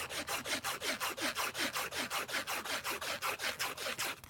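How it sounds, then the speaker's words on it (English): A lock pick is rubbed back and forth against a strip of sandpaper in quick, even strokes, making a close, steady rasping scrape about four times a second with no talking. "So you can take, just cut a strip of sandpaper and"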